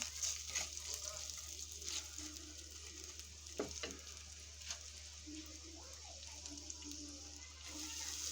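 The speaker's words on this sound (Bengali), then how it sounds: "আমি সবসময় একটু কালো জিরা ফোড়ন দিই। এর মধ্যে আমি 4-5টা কালো জিরা ছিটিয়ে দিয়েছি।" Black cumin seeds and dried chillies sizzle softly in hot oil, with a quiet, steady hiss and faint crackles under low background hum, and a few light clatters of a utensil in the pan.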